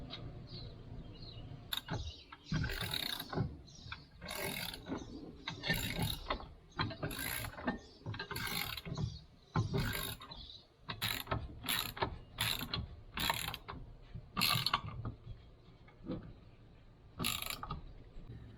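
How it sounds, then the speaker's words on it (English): Ratchet socket wrench with a 19mm socket tightening a bolt while a Thule bike rack is installed on a fifth wheel hitch mount. Repeated close clicking strokes come in a steady rhythm, with no talking. "if you're doing this with a socket, it is a 19mm socket."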